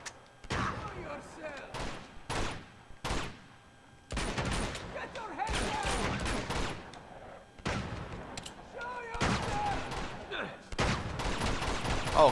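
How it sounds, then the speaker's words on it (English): Gunfire in Uncharted 2: Among Thieves during a fight with an armored shotgun enemy, repeated sharp shots and bursts in clusters with game effects between them, and a player's voice talking over parts. "How many shots is that guy gonna take before he goes down?"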